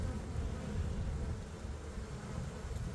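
A honey bee swarm, the first of 2023, being settled into a hive with frames of honey and pollen, gives off a dense, continuous buzzing hum that stays steady and close throughout, with no talking.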